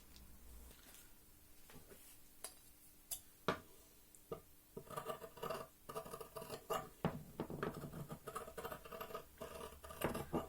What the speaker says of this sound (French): Quand je coupe, donc toujours mes ciseaux à plat sur la table